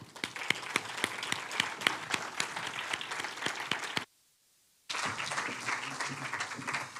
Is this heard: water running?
no